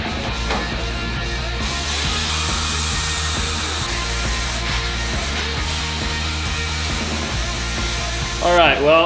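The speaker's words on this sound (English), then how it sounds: "I'll grab the plasma cutter and we'll get to work." A plasma cutter cuts through the steel bed mount of a monster truck project, making a loud, continuous hissing roar that holds steady for several seconds before a brief flare near the end.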